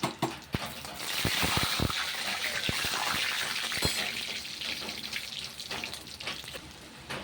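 Cumin, bay leaves and dried chillies sizzle in hot oil as the tempering for khichuri, a steady close hiss with a few sharp crackles and pops near the start.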